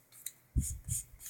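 Rasping file strokes on the tip of a rose gold gel nail, a few short scratchy passes close up, quiet and alone.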